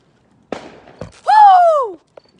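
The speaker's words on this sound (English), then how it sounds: "Fireworks are going off everywhere." Fourth of July fireworks going off near a rooftop, with a couple of sharp pops followed by a loud whistling tone that bends up and then slides down before a small final crack.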